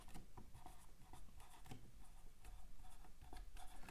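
Pen scratching across paper as notes are written during a chemistry lecture on gas pressure, steady close scribbling strokes in quick bursts with no talk over it.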